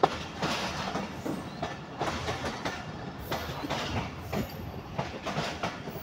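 The Tezgam Express passenger train running on rails at night, a loud, steady rumble with a regular clickety-clack of wheels over rail joints, heard from on board with no talk.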